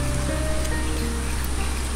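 Rain falling at Taman Bougainville park on Gunung Puntang, a steady, even wash of drops with no breaks, close and fairly full throughout.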